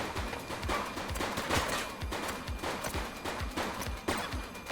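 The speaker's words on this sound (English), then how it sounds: "Shots fired!" Gunshots in the police video game The Precinct, a quick series of sharp reports firing in an irregular rhythm over steady background game noise, moderately loud with no speech.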